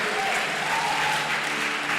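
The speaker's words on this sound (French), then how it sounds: "Can somebody put your hand together toward the Lord?" A church congregation applauds the Lord with steady, dense clapping filling the room throughout, with voices mixed into the crowd noise.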